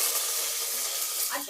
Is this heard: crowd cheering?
no